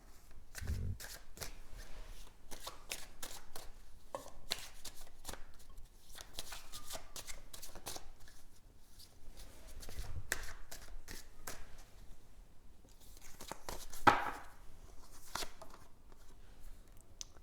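Lenormand tarot cards are shuffled by hand in a long run of crisp, rapid riffling and flicking bursts, close and fairly quiet, with occasional soft taps and no talk.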